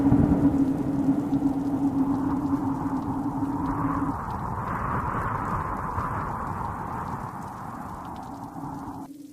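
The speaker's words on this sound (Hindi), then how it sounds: "जोरदार बारिश हो गई।" Heavy rain pours down on a dark, cold night, a dense, steady hiss of drops with a low rumble beneath, continuous throughout and without voices.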